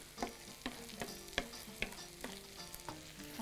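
Almonds fry in a pan for rice, crackling and sizzling under repeated sharp scrapes and taps of a spoon stirring at a steady rhythm, close by.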